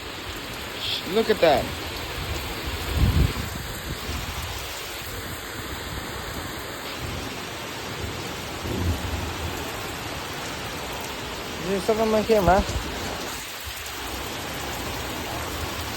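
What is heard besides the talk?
heavy rain falling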